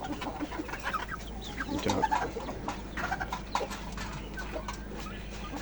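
Domestic free-range hens cluck and murmur softly on a small hobby farm, a steady close chorus of short clucks and low coos, with a brief spoken word in the background.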